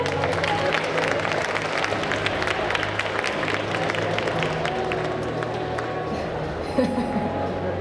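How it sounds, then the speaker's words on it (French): An audience at a video-game event applauds, with scattered individual claps over a crowd murmur and voices, continuing at moderate level throughout. "Merci beaucoup Axel, on peut l'applaudir."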